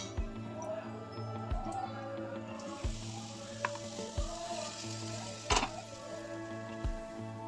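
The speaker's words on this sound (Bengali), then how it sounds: "পর আবারও অল্প একটু তেল দিয়ে ফ্রাই প্যানে আবার পরেরটা দিয়ে দেব" Semolina chilla batter with a little oil frying in a frying pan, giving a steady close sizzle with occasional clicks and taps of a utensil.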